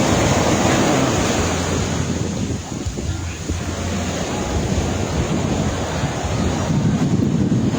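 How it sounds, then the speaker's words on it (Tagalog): Strong ocean waves surge and break at Vales Beach Resort in Toril, Davao City, a loud continuous wash of surf mixed with heavy wind buffeting the microphone, with a swell that dips briefly midway and builds again. "Kaya ang lakas ang alon eh."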